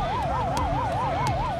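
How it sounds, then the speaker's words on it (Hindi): An ambulance siren wails in a fast, regular up-and-down pattern on a blocked city road, loud and continuous over traffic noise. "एम्बुलेंस सायरन बजाती रही"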